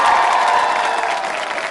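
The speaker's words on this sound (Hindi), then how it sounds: "तालियां जोरों से बजाइए।" A studio audience at a Republic Day quiz show claps loudly and steadily, a dense close wash of applause that eases slightly toward the end.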